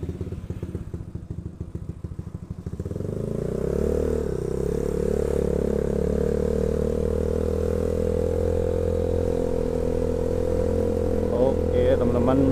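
A Yamaha Mio scooter with a 190cc bore-up engine idles with a rattle, then pulls away and settles into a smooth, steady drone on a test ride while someone talks over it.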